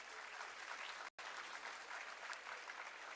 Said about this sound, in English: May I request everybody to once again welcome Sir with a warm round of applause.